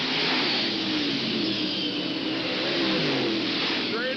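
Stock cars race around Hales Corners Speedway, a steady, loud blend of engines roaring close by with rising revs near the end and no break in the noise.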